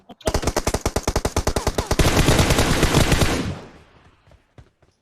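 Rapid automatic gunfire from a video game firefight: a fast, regular string of loud shots that runs into a dense, continuous burst before fading out, with a few scattered shots at the end.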